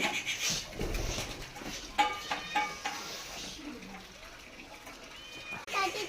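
A house cat meows a few short times outdoors in the morning amid rustling, bird chirps and scattered soft knocks, with people talking nearby.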